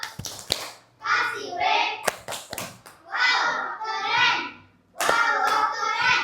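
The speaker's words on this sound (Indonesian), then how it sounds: "Oke, tepuk tangan untuk kita semua." A class of fourth-grade children in Indonesia claps in short rhythmic bursts, sharp hand claps alternating with spells of excited chanting voices.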